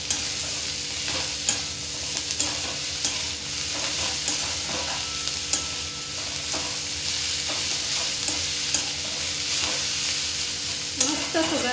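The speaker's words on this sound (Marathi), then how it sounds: "आपण यात आता चवीनुसार मीठ घालूया आणि ही चिरलेली कोथिंबीर घालूया आणि व्यवस्थित परतून घेऊया।" Ivy gourd (tondli) is stir-fried in a pan with salt and chopped coriander, giving a continuous close sizzle with repeated scraping stirs in an even rhythm, and no voices.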